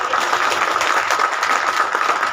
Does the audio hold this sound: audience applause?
yes